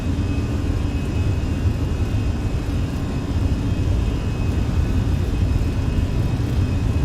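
A Fenix A320 rolls down the runway for takeoff in Microsoft Flight Simulator, a loud, steady broadband jet roar with a low rumble underneath, continuous throughout, with no talking.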